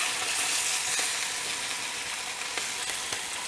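Flour-coated canned saury fries in a pan over high heat, a dense, steady sizzle with faint crackles and pops throughout, close and loud.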